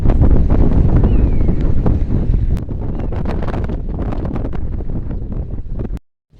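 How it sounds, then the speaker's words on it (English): Strong gusts of wind at a lake in Tehran, Iran, ahead of a storm, buffet the microphone in a continuous roar, easing slightly midway, before the sound drops out abruptly at the end. "The wind is picking up."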